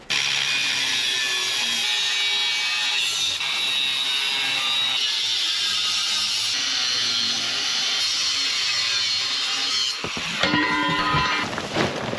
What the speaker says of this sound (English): But I do want to cut off the handrail because I don't really need it and it looks a bit bad. So we're going to grind that off right now.